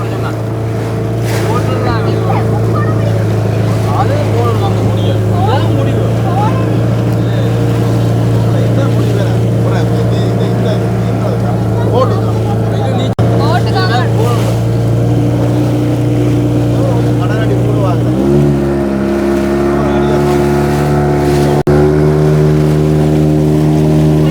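Racing boats roar across the water during a boat race. Loud engines drone continuously and close by, and a shift in engine pitch comes near the end.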